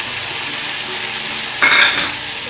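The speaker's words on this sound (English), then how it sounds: "Now I will add tomatoes." Tomatoes go into mushroom pulao frying in a pan, and a loud, close sizzle rises sharply partway through, then settles into a steady frying hiss with no voices.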